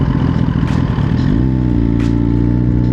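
A motorcycle being ridden, on its way to be dropped off for upgrades, makes a loud, close, continuous engine drone whose pitch shifts about halfway through, with rushing wind noise over it.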